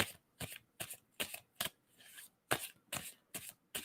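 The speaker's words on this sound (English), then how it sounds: "tell me when I should stop shuffling" Tarot cards being shuffled by hand in repeated short riffling bursts, about eight quick crisp flurries separated by brief pauses, close and fairly quiet with no talking.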